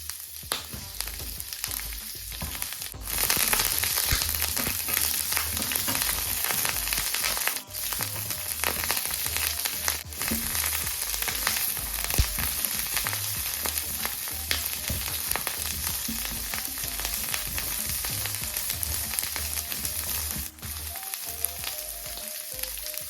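Asparagus fries in a pan with a dense, steady crackling sizzle, broken by a few sharp clanks and shifts of the food, close and continuous with no voices.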